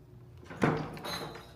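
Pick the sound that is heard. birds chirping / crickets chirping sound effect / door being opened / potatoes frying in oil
door being opened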